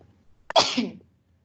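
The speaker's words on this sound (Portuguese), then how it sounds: "Com esse espirro aqui." One sudden sneeze up close, starting with a quick intake and bursting out loudly before fading.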